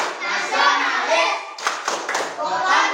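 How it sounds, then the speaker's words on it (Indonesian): A class of Indonesian primary pupils does the tepuk PPK clap routine: rhythmic hand clapping and thuds under their group chanting, close and continuous, with a few sharper claps standing out. "kita tepuk PPK dulu"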